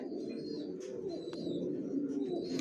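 Young racer pigeons coo steadily at close range, a continuous low burbling with a few brief higher chirps mixed in.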